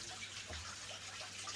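Water pours steadily into a buried aquaponic sump tank built from an IBC tote, a faint continuous rushing wash with a low hum beneath, heard alone without talk.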